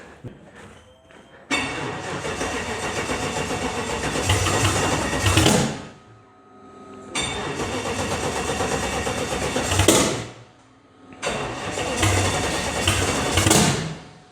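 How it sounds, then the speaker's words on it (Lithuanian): An old car's engine cranks in three long, loud whirring bursts of several seconds each, separated by short silent pauses, and never settles into an idle. "Atsiseks čia mums dar užkursi mašiną, parodyt, kaip dirba."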